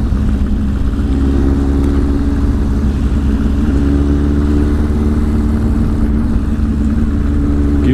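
Nearby motorcycle engine droning steadily with a low, rumbling, slightly rising hum throughout, fairly loud and without talk, as a 1000 RR sportbike rides past.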